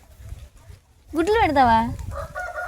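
A hen clucks once in a loud, wavering call near the middle, then gives softer follow-up clucks, with light background noise and no speech.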